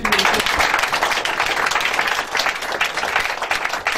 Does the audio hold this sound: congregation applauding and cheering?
yes